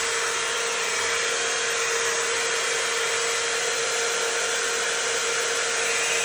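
T3 Airebrush hot air brush running at max speed and max heat, giving a steady, loud whooshing motor-and-airflow drone with a constant hum that holds unchanged throughout.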